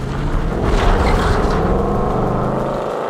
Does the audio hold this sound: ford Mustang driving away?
yes